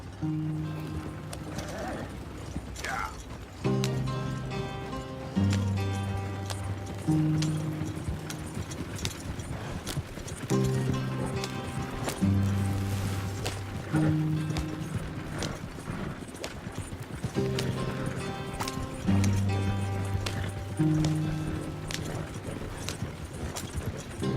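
Horses' hooves clatter in a steady, continuous clip-clop at speed in the video game Red Dead Redemption 2, with a horse neighing once near the start and a loud musical score running underneath throughout.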